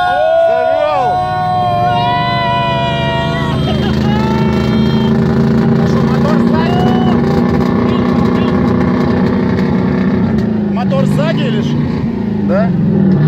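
A four-ton off-road vehicle's engine idles and runs steadily with a low droning rumble throughout, loud and close, while people talk over it.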